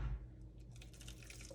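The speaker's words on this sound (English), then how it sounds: "And then you're gonna add some of the pasta water" Pasta water poured into a cream cheese sauce for jalapeño mac and cheese, a soft splashing trickle of liquid close by, fairly quiet and steady.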